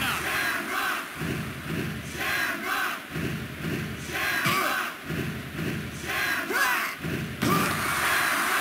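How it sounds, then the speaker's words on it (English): A packed arena crowd in the WWF Warzone wrestling video game roars and cheers continuously, a loud dense wall of shouting with rhythmic swells and occasional thuds from the ring. "Listen to this capacity crowd. They're loving it."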